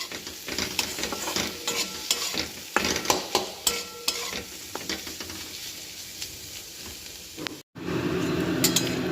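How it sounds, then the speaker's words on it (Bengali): Bottle gourd peels stir-fried in a pan, with a steady oil sizzle broken by repeated scraping and clinking strokes of a spatula; a brief gap near the end before the frying noise resumes louder and closer. "আবার একটু নেড়ে আসি"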